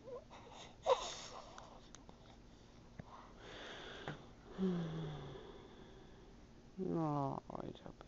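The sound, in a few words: cat yawning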